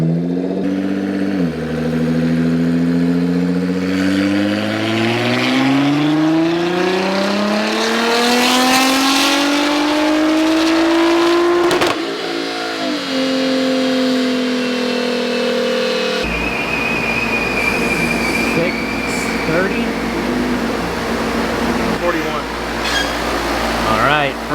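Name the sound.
Nissan GT-R engine revving during dyno pull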